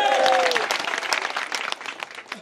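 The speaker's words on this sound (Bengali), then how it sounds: "আগেই বলছি, হাততালি দরকার নাই" An audience at a spoken address breaks into a burst of clapping that starts dense and loud, then thins and fades over a couple of seconds.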